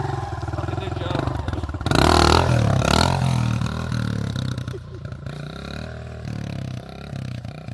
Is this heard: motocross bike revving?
yes